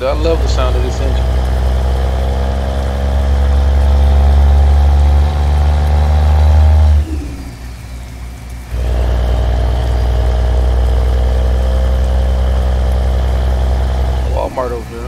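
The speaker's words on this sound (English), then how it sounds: "I love the sound of this engine." A big diesel truck engine in American Truck Simulator idles with a deep, steady rumble, briefly dropping off partway through before returning, with a person talking over it.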